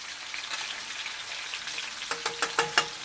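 Onion added to a hot pan with catfish fillet crackles and sizzles faintly at first, then a quick run of five sharper pops and spits close by, with no voices.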